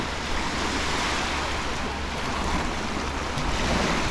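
Aegean Sea waves at Faliraki on Rhodes wash steadily against the shore in a continuous broad surf, with wind buffeting the microphone throughout.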